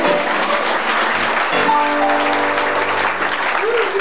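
Crowd applause at a live concert, steady clapping from many hands with a voice and sustained instrument tones sounding over it partway through.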